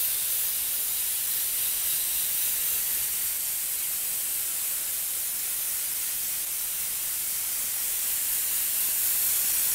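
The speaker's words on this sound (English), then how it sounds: "So let's go on, let's spray another coat." A paint spray gun lays a light brown coat onto a handcrafted Thoroughbred horse model, giving a continuous, even hiss of spray that stays loud and unbroken throughout.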